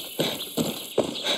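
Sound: horse hooves in video game Far Cry 6

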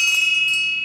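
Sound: summoning bell rung to announce coffee is ready

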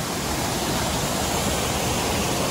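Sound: waterfall

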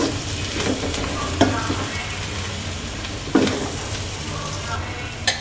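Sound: stirring egg fry with coriander leaves in a pan

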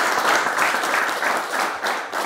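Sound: applause

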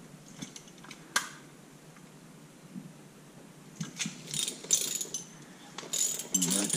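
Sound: socket wrench turning Honda CB125E motorcycle crankshaft

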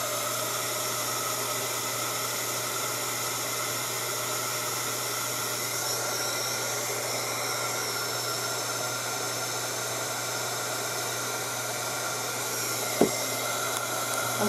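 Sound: portable travel hair dryer drying a watercolor painting

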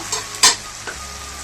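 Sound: frying tomato and onion masala with spices in pan

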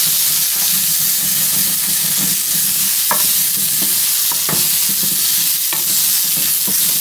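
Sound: frying and stirring chutney in pan

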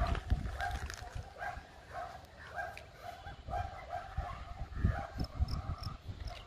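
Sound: dogs barking in the background

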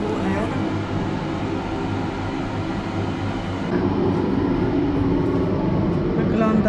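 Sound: inside a railway passenger carriage

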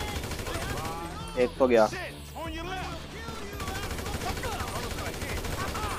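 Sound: gunfire from a gun in the video game GTA 5

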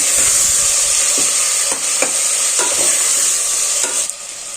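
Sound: sauteing chopped pandadi beans, tomatoes and eggplant sizzling

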